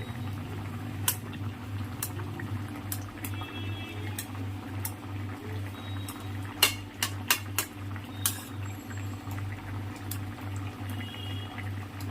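A pot of fish curry with pumpkin green stalks and potatoes simmers at a steady low bubble, with a constant hum and a few sharp clicks and taps scattered through the middle.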